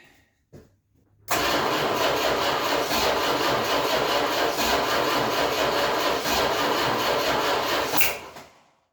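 A 1966 Chrysler New Yorker, parked for 18 years, cranks briefly, then catches and runs loudly and steadily for several seconds, with a faint back puff near the end before it cuts off.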